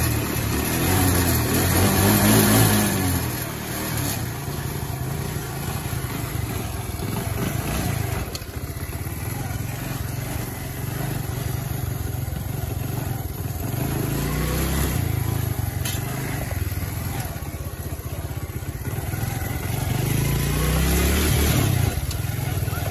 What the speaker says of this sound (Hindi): स्टार्ट तो हो गई है बाइक, क्योंकि अभी ठंडी है ना थोड़ी।